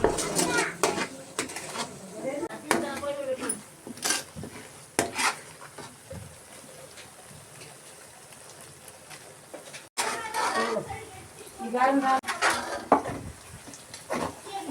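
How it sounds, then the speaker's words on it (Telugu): Ginger garlic paste fries in oil with a soft sizzle while a utensil repeatedly scrapes and clinks against the pan; a voice talks on and off. "అదే ఆయిల్లో అల్లం వెల్లుల్లి పేస్ట్ను కూడా బాగా వేయించుకోవాలి"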